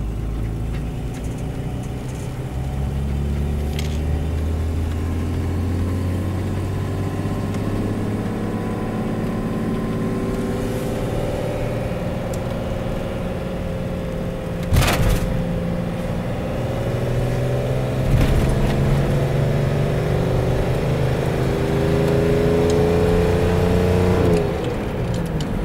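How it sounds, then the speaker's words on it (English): A car engine idles with a steady, throaty rumble, then revs several times, its pitch rising and falling in sweeping surges, close and prominent for the whole stretch with no talking. "I like the sound of this car"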